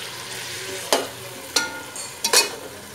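Beef chowmein with white pepper being stirred in a hot pan, three distinct scraping strokes over a steady low sizzle, close and fairly loud with no voices.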